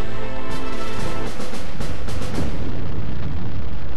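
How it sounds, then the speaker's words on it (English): Heavy explosive rumble from an airstrike in the tank-battle game Hills of Steel, a loud, sustained booming roar with several overlapping blasts that keep rolling through the whole stretch, with no voices. "An airstrike."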